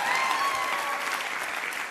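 A live talk audience in Los Angeles claps steadily for two seconds, a dense, even wash of many hands with a faint murmur and no distinct voices.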